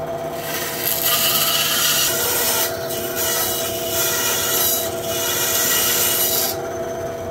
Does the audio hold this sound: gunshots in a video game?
no